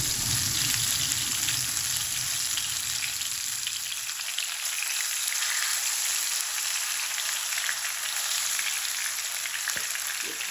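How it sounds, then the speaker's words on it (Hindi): Fish sizzling steadily in hot oil in a home kitchen, a dense, even crackle that stays loud and close throughout, with a lower bubbling layer in the first few seconds that thins out, and no talking. "यहाँ पे ऑयल गर्म हो गया। अब इसके अंदर मैं रख दूँगी फ़िश।"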